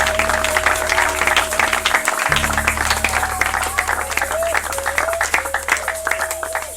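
A church congregation applauding and cheering in sustained loud clapping with crowd voices, while a speaker talks over it.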